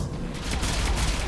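Gunfire in Mass Effect 3 combat, rapid overlapping shots and booms forming a dense, loud barrage that grows heavier over a second or so.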